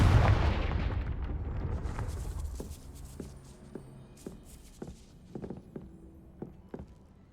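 Confringo fire spell blasts in the Hogwarts Legacy game, a booming burst fading over a few seconds, followed by a series of sharp, spaced impacts and cracks.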